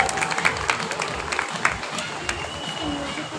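A school prize ceremony audience at The Bristol School gives steady, dense applause with sharp claps throughout, while a voice carries on over it.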